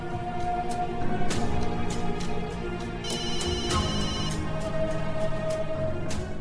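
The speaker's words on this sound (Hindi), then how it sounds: "चुमकी दा फोन आई गया।" A phone ringtone plays a repeating melodic tune, bright and steady, looping several times with no one speaking.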